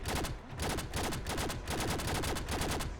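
Wattz 3000 mkII laser gun fired in Fallout 4, a long run of rapid, evenly spaced zaps in short controlled bursts, loud and close, with no talking.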